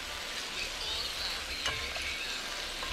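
Mushrooms frying in a pan at a wild camp in the Cheviots, a constant close hiss and sizzle with no one speaking.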